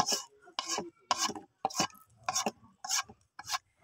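Mukhi lentil dal is stirred in a pot over a clay stove, making about seven evenly spaced rasping scrapes, close and fairly quiet, with no talk.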